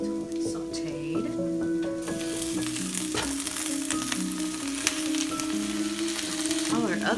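Kale sautéing in a pan, a steady close sizzle running throughout under a background musical tone, with a faint clatter partway through.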